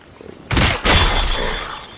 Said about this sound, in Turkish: Silahım kırıldı.